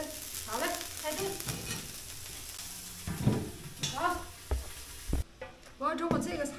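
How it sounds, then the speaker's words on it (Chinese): Small willow-root fish cook in soybean paste in an iron wok on a rural northeastern Chinese stove, giving a close, continuous sizzle with occasional stirring clatter, while voices and other intermittent sounds rise over it. "铁锅炖小鱼儿"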